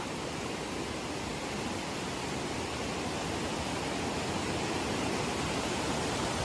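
A swollen, flooded river rushing with strong pressure, a dense, unbroken roar of water filling the whole clip at an even level, with no voices.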